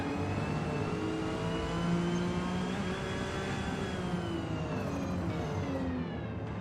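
A sports car engine in a racing video game revs and whines in steady rising tones, holding a sustained pitch before easing off near the end, continuous and fairly quiet.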